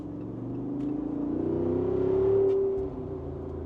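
A 2024 Jeep Wrangler 392 V8 accelerates on a highway with its exhaust closed, a steady rising engine drone that swells toward a peak and then eases off, heard from inside the cabin without talk.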